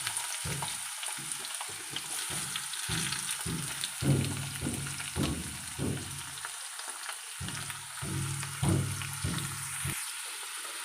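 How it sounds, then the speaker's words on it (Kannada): Chopped tomato, onion and green chili frying with garlic in a pan, a steady sizzle broken by repeated scraping stirs that come in quick bursts, close and moderately loud, with no talking. "ಟೊಮೆಟೊ, ಈರುಳ್ಳಿ ಹಾಗೂ ಹಸಿಮೆಣಸನ್ನು ಕೂಡ ಮಿಕ್ಸ್ ಮಾಡಿ ಹಾಕ್ಕೊಳ್ತೇನೆ ಫ್ರೈ ಮಾಡ್ಕೊಳ್ಳಿಕ್ಕೆ."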